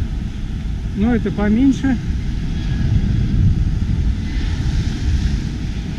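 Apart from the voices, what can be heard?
airplane flying overhead near Nai Yang beach, Phuket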